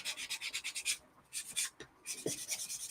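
Rhythmic scrubbing of the blue sponge side of a sanding block across a hard model surface to remove scratches, in several quick bursts of back-and-forth strokes with brief pauses between them.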